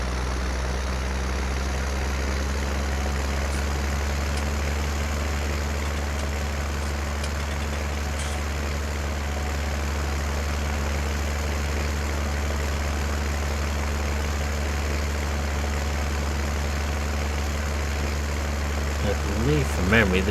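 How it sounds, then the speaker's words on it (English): A John Deere 2x50 tractor in the video game Farming Simulator 19 runs at a steady low idle, a deep continuous drone that holds evenly throughout and swells slightly at the very end. "It's a nice sounding tractor."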